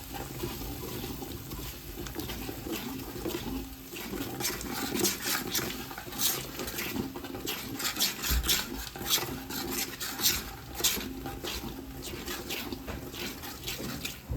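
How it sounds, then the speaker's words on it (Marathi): Ginger and masala sautéed and stirred in hot oil in a pan for a large festival meal, a continuous close sizzle with repeated scraping and stirring strokes, fairly even throughout, no talking. "आलं टाकते परतायला. मसाला छान तेल सुटेपर्यंत परतून घ्यायचा."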